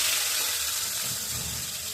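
Cauliflower florets rubbed with salt and turmeric frying in hot oil in a pan, a steady close sizzle and hiss running unbroken throughout, with no talking.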